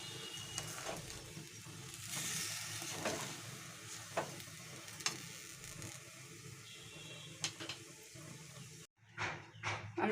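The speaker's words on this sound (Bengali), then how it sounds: "আমি গোবিন্দভোগ চালটাকে একটু নেড়ে দিচ্ছি কড়ায়।" Gobindobhog rice stirred and dry-roasted in a wok, giving a steady dry sizzle with scraping stir strokes throughout, brief quiet near the end before a few louder scrapes.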